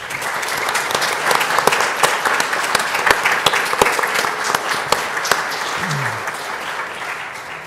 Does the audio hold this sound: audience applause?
yes